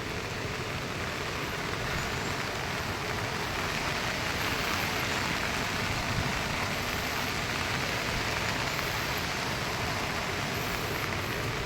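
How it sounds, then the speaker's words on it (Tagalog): Heavy rain falls steadily and unbroken, a dense, even hiss of drops on surfaces of an outdoor hut filling the whole scene with no pause and no voices. "Walang tigil yung ulan, no?"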